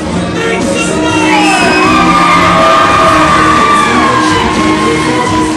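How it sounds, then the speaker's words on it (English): A pro wrestling crowd cheers and shouts loudly for a high-energy wrestler, a dense sustained roar of yells and whoops filling the arena throughout. "Now the crowd making some noise, making Adam Ace happy"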